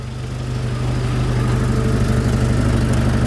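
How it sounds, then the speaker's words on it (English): A Jeep Wrangler engine idles with an exhaust leak, a loud, steady low rumble with a rapid ticking pulse that holds unchanged throughout. "It still has an exhaust leak,"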